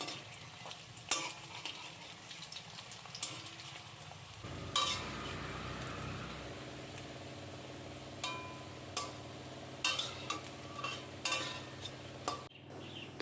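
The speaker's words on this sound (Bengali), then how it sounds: "তো আমি এখানে বলগুলো তেলের মধ্যে দিয়ে দিচ্ছি।" Potato-and-egg bora balls fry in hot oil on low heat, a soft steady sizzle running throughout, broken by occasional close clinks and stirring scrapes of a utensil in the pan, with no voices.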